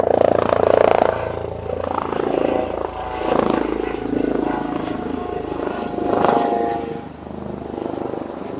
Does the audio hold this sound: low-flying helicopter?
yes